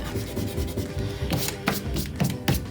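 An eraser rubs out a pencil drawing of bubble letters on paper in a craft session, giving close, soft scrubbing strokes in quick bursts. No one speaks.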